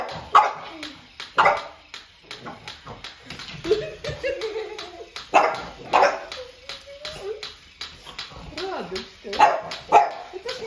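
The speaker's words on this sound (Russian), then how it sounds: "Это ж маленький щеночек." A small French bulldog puppy barks and yips in short, irregular bursts, with whimpering between them, while people talk nearby.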